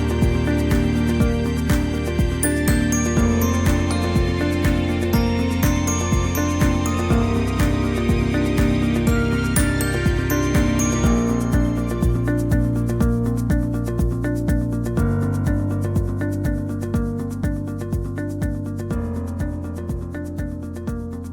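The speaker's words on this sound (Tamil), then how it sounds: "நம்ம கொஞ்சம் கொஞ்சமாக எடுத்து சப்பாத்தி மாவு எப்படி வளர்த்துப்போமோ அதே மாதிரியே இதை வளர்த்துக்கலாம்" A rolling pin works chapati-style snack dough in steady, repeated rubbing strokes, evenly paced and moderately quiet, with background music playing throughout.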